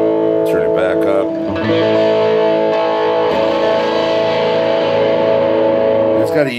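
A sustained, heavily distorted electric guitar chord through a Purple Dragon distortion pedal rings out with thick, fuzzy overtones, struck again near the start and end.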